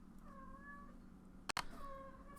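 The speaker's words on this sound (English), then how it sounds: "If you hear little meowings and things like that" A cat meowing close by, two drawn-out meows separated by a sharp click or knock, with no talk over them.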